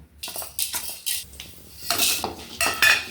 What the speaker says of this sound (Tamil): இங்கே இந்த சீரகம் வெந்தயம் மிளகு கடலப்பருப்புங்க இதை வந்து வறுத்துக்கு போகிறாங்க